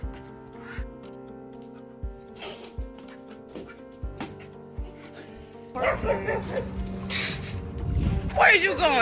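A dog barks in a series of short, sharp yips and bow-wows at a fairly steady rhythm, close and moderately loud, with heavier noise and handling sounds near the end.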